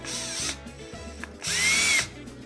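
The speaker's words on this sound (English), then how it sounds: "while Amy drills in these double rope hooks" A power drill drives double rope hooks into a junk letter hanging sign, with two loud whirring bursts rising in pitch, separated by a short pause and light mechanical clicks.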